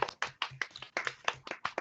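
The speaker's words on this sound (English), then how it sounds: "Let's all give a little round of applause to our wonderful DM." A small group claps for the game master at a tabletop role-playing session, with quick, uneven bursts of hand claps close by and no one talking over them.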